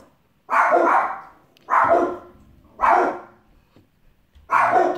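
A puppy barks four times in a loud, evenly spaced rhythm, each bark short and close with brief pauses between.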